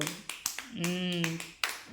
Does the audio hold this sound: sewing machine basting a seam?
no